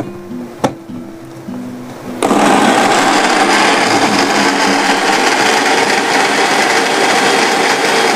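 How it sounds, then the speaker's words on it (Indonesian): A blender whirs steadily, grinding onion and garlic with a little water for beef soup; after a short quiet start with a click, the loud motor drone starts suddenly and runs continuously to the end. "supaya blendernya kerjanya ringan ya"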